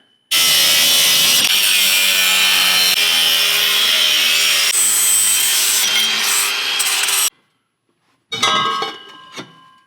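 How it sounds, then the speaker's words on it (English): A cutting tool trims a piece of exhaust pipe to fit a muffler on an LS engine exhaust: a loud, harsh, continuous rasping cut for about seven seconds stops abruptly, then a short, scratchy burst follows. "I need to cut this piece down a little bit so it'll slip on further."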